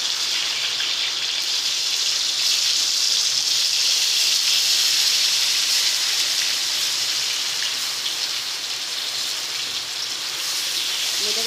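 Pieces of pointed gourd (potol) dropped into very hot oil in a red-hot wok, frying with a loud, steady sizzling hiss that holds constant throughout, close up.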